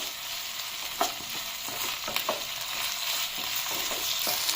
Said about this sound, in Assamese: আদা নহৰুখিনি অলপ ভাজি ললো